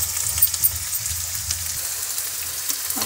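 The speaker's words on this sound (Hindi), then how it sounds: "और इसे फ्राई कर लूँगी" Shredded cabbage frying in a pan, an even moderate sizzle with faint scattered pops and a low rumble underneath, steady over a few seconds without speech.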